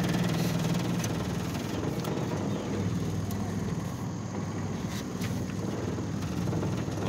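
A fishing boat's engine idles steadily on the water during summer crappie fishing, a loud continuous rumble with heavy vibration and some wind buffeting, no talking.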